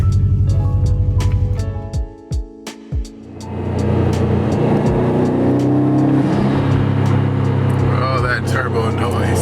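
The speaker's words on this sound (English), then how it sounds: "Turbo noise." A Subaru WRX STI pulls hard while driving, its engine and turbo rising in pitch, easing off through quick gear changes, then building again into a loud, sustained close drone.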